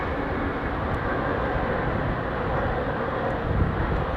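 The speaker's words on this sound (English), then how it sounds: "787-8 to Nairobi, taxiing out now" A Kenya Airways Boeing 787-8 taxiing out for Nairobi at London Heathrow, a steady broadband jet engine roar held at a constant level throughout.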